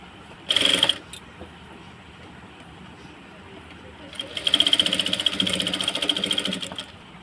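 A sewing machine stitches a side dori onto a kurti in two runs, a short burst early and then a longer steady whirring run of a couple of seconds, close and clear with quiet background.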